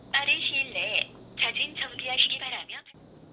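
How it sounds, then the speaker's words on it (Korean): An automated warning call sent to the phone number on an illegal advertisement plays as a tinny, narrow-band recorded voice through a telephone, in short clipped bursts. "설정을 마치자 곧바로 전화가 걸려옵니다"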